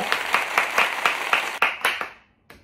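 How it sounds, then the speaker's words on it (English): A small group claps at the start of a casual smash-or-pass gathering, with several rhythmic bursts of hand claps fading out toward the end before one last clap, fairly close and loud. "Let's clap it up."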